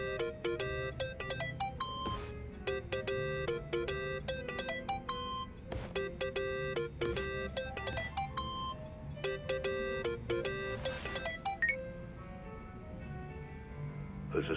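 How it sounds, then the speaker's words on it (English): A mobile phone ringtone rings in the video game Yakuza: Like A Dragon, a bright repeating melodic jingle that plays steadily and loudly for the whole stretch over a low ambient game background. "Think that's your phone, man."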